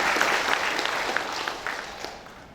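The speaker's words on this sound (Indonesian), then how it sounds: "kita berikan aplaus kepada Bu Amani." An audience at a university graduation ceremony claps in a dense burst of applause that starts strong and gradually thins and fades over a few seconds.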